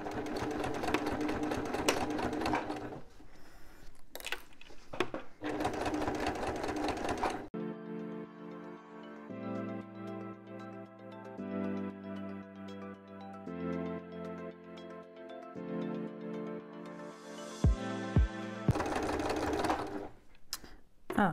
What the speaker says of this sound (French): je vais venir faire une couture ici, pareil, à 2-3 mm d'émail